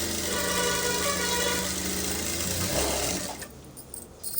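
Sewing machine running a double stitch on a blouse, a steady close mechanical whir with a constant buzzing hum that stops abruptly near the end, followed by a few light clicks and handling noises.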